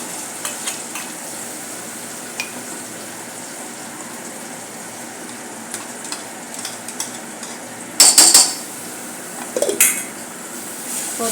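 Green coriander paste is added to a pan over low flame and fried, with a quiet background sizzle broken by a few scattered stirring clinks and a louder burst of pan scraping near the end.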